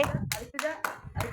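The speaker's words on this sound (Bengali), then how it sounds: "হাততালি হাততালি হাততালি।" Several quick hand claps ring out in a steady rhythm at a children's blindfolded pot-breaking game, close and clear, with a voice mixed in.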